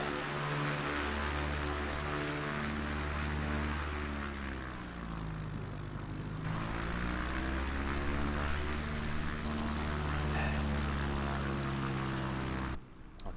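A propeller aircraft engine droning while the plane taxis to the runway before a coastal flight toward Edinburgh, a steady close hum whose pitch sweeps down and back up as the revs change.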